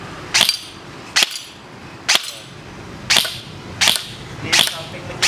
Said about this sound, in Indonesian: ini percobaan jenis unit AEG yang mekanisme menggunakan baterai